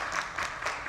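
Applause from an audience at a press conference held by Pakistani television artists at the Arts Council of Pakistan in Karachi, a brief burst of steady clapping with no talk over it.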